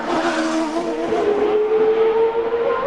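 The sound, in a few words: CART race car accelerating on track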